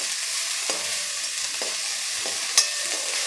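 A thecha of green chilies, raw garlic and cumin sautés in oil, giving a steady bright sizzle with a few soft scrapes of stirring and one sharp clink of a utensil on the pan; no voices.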